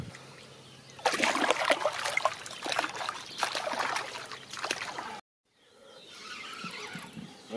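A carp is released back into a wild pond with bursts of splashing and trickling water up close, then a sudden cut and softer lapping water afterward; a voice is faintly present.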